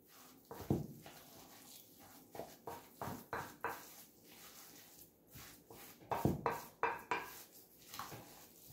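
Chicken being mixed with egg yolk, salt and pepper in a bowl, with a series of irregular clinks and knocks of a utensil against the dish, fairly close and quiet.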